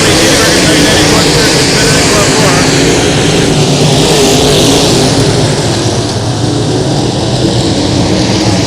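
Dirt track street stock race cars roar continuously at Fairbury's Spring Nationals, a loud, dense engine drone swelling and fading slightly as the pack passes, with an announcer talking over it.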